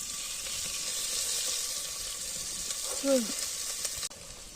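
Oil heating for fish frying on a stone outdoors by a dam, giving a continuous bright hiss that fills the clip, with a brief high tonal chirp near the end before the sound cuts off.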